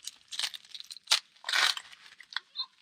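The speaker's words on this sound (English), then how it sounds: "I'm going to peel some corn for my little Lily." Corn husks being peeled by hand for a goat, irregular close crackling and rustling tears in short bursts with quiet gaps between, no talking.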